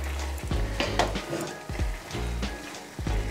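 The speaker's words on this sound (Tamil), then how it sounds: "இதை நல்லா ஒரு நிமிஷம் மிக்ஸ் பண்ணுவோம் இந்த தேங்காயும் சேர்த்து." Chana dal sweet poli filling with grated coconut and ghee is stirred in a pan: repeated rhythmic scraping strokes over a steady close sizzle, with no voices.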